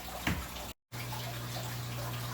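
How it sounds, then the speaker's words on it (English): Water pours steadily into a bearded dragon's water dish inside a bioactive enclosure, a close continuous trickle broken by a brief cut, with a low hum beneath. "I'm going to go ahead and fill his water dish"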